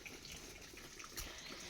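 Water streams faintly and steadily from a homemade rig into a bottle, a soft continuous trickle with no talk over it.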